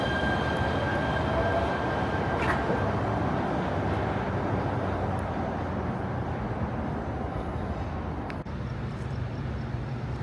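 A train rumbles past at night in LA's Chinatown, a steady, loud, continuous roar of wheels and cars filling the whole stretch with no talk.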